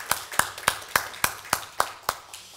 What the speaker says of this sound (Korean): 박수 한번 쳐드릴까요, 우리 권사님들?